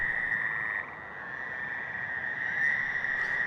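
Fowler's toads calling at night during breeding season, a continuous nasal droning trill held at moderate distance and steady volume, with no voices present.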